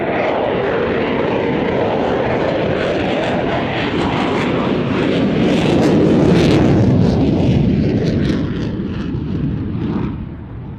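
A military jet passes at an air show, a loud broad engine roar and rumble that swells near the middle and fades away at the end.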